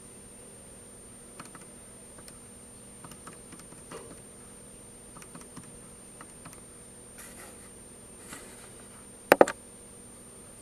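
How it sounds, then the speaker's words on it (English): Scattered light clicks of calculator keys being pressed to enter y values, soft and close, with a sharper clatter near the end. "Then we type in our y values."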